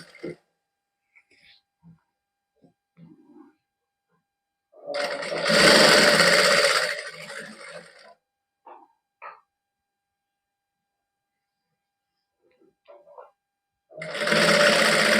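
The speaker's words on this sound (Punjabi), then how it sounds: "ਇਸ ਤਰ੍ਹਾਂ ਹੌਲੀ ਹੌਲੀ ਆਪਾਂ ਸਲਾਈ ਲਾਈ ਜਾਂਦੇ ਜੀ" Sewing machine stitching net lace onto the edge of a dupatta, running in two loud whirring bursts of about three seconds each, with faint scattered movement and quiet sounds in between.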